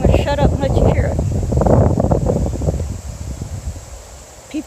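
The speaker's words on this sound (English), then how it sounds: "you can hear the wind" Gusty wind as the outer rain bands of a storm arrive, rushing and buffeting the microphone, strongest early then easing off, with a voice briefly at the start.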